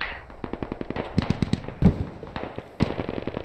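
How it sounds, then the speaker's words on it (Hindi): Rapid bursts of gunfire in the military simulation game Squad, sharp distinct shots in quick rhythmic strings with a few heavier reports mixed in, fairly close and loud. "भाई देख मैं जो फायर कर रहा हूँ धुआं उड़ रहा है"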